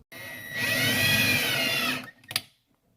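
A power drill drives screws into a wall stud while a microwave is being mounted, a steady whine lasting about two seconds, then a short final burst of drilling close by.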